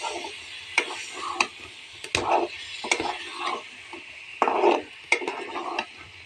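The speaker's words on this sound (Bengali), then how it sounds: "এখন আমি আলুটা দিয়ে দিচ্ছি। আলুটা দিয়ে আবার সুন্দর করে কষিয়ে নেব।" Potatoes stir-fried in a pan after koi fish were fried in it, with repeated scraping and clattering strokes of a spoon over a soft sizzle, close and moderately loud, no talking.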